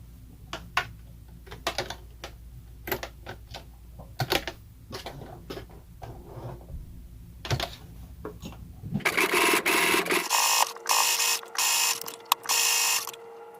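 Sewing machine stitching sections of a fabric face mask, starting with light intermittent ticks and clicks of handling, then breaking into a loud, close, steady mechanical whir in several runs near the end.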